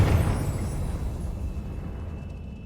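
One loud blast from the Confringo spell in Hogwarts Legacy on Xbox Series X, a heavy rumbling explosion that hits hard at first and then rolls off steadily into a fading roar.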